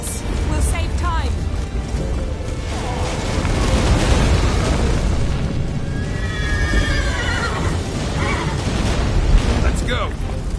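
A horse in The Witcher III neighs loudly, with a long whinny near the start and later shrill neighs, over rumbling hoofbeats, booming battle noise and shouting voices.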